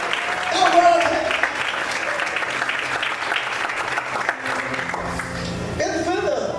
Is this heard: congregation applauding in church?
yes